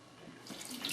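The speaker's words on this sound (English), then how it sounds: "The boil off is running clear now." Home-brew boil-off wort runs from a valve into a pot, a close watery trickle and pour that builds louder and brighter toward the end, with no voices.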